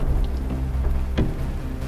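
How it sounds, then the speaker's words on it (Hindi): Heavy monsoon rain in Lahore pours steadily and loudly with a deep rumble of thunder underneath and a sharp crack near the middle, no voices heard. "तूफानी बारिशें"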